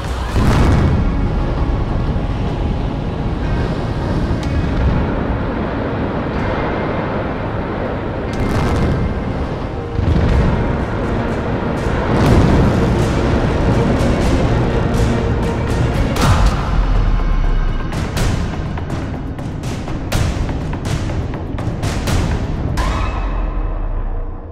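Controlled demolition of the Munmorah power station turbine hall, a cut-and-pull collapse producing a long, loud rumbling roar with repeated sharp cracks and crashing debris bursts over about twenty-five seconds.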